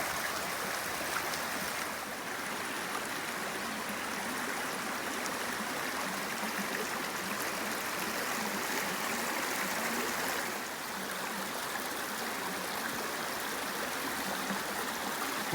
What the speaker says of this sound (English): We have come to a lovely little stream.